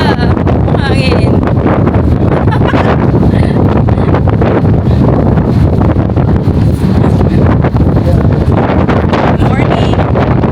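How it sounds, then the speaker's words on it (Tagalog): Strong wind buffets the microphone on the open deck of the Costa Serena cruise ship sailing near Hong Kong, a loud, constant roaring rumble with gusty fluctuations, with people talking partly under it. "Malakas talaga. Hangin."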